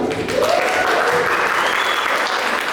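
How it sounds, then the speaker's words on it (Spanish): A dense, steady round of audience applause greets the final speaker, Deana, at a talk on methamphetamine and stimulants, with a faint voice sliding through the crowd noise. "Un aplauso, por favor."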